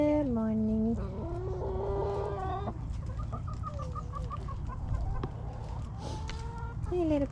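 Chickens clucking and squawking close by, with a rooster-like call at the start and end over a steady background hum.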